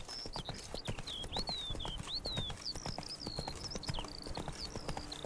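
Roach, the horse in The Witcher 3, clatters along in quick rhythmic hoofbeats at a gallop while bird chirps twitter above, close and continuous for the whole stretch.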